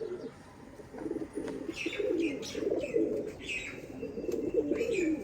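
Repeated low coos of Sialkoti pigeons overlap in a steady rhythm, with a few higher chirps and light rustling nearby.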